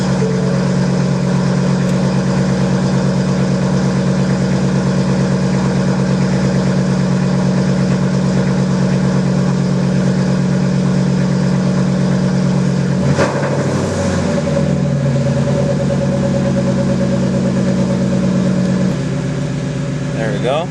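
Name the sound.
Ford Mustang GT s550 engine running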